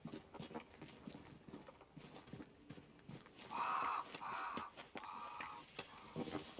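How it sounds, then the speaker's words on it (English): Crows caw in the action role-playing game Banishers: Ghosts of New Eden, three or four harsh, fairly loud calls in a row midway through over a quiet outdoor ambience with scattered soft knocks and footstep-like taps. "Crows."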